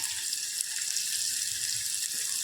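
Onions tossed into hot oil with spluttered mustard and fenugreek seeds, a steady close sizzle and crackle that continues without a break.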